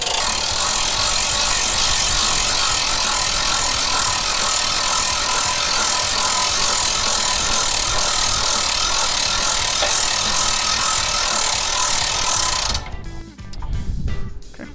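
A hand crank ratchets up the mast of a Generac diesel light tower in a loud, continuous mechanical clatter with a dense grinding texture, close by, easing off near the end into a few separate knocks.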